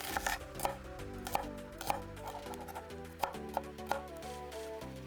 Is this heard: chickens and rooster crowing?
no